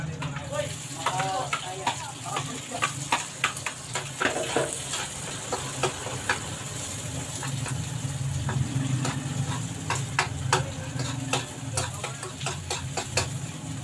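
Chopped onion sizzles and crackles steadily in a hot pan while corned beef is cooked, with scattered sharp ticks and scrapes of stirring over a dense, even frying hiss throughout.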